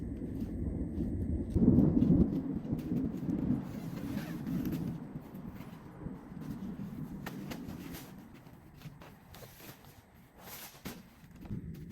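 Thunder rumbles low and heavy from an approaching rainstorm over a homestead campsite, swelling early and then fading into a softer roll, with nearby clatter and shuffling of someone moving gear.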